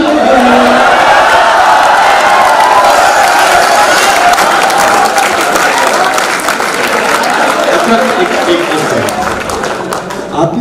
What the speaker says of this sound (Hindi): आपकी ताली बजा सकते थे क्या?